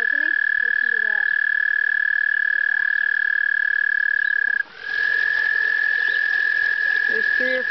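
Close, loud toads trill in a small garden pond, droning almost without a break. The trill drops out for a moment, then resumes just as strongly, with faint low sounds underneath.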